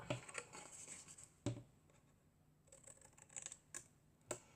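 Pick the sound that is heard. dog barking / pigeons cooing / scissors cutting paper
scissors cutting paper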